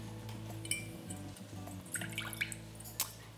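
Brown rice vinegar is poured into a measuring cup, making soft trickling and dripping splashes with a light clink of glass, faint and close over a low steady hum.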